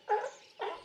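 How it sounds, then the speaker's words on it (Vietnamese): A sea lion barks twice in quick succession, short, hoarse, moderately loud calls close by, with no other sounds around them. "Sea lion."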